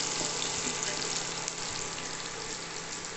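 Onions sizzle and fry steadily in a pan for Bombay rava upma, a dense continuous hiss held at even volume throughout with no voices.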